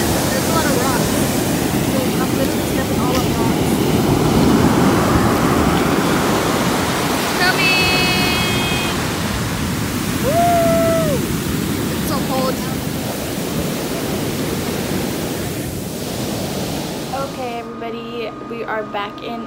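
Waves breaking on a rocky beach make a loud, continuous wash with gusts of wind over the microphone. A few faint tonal chirps come and go against it.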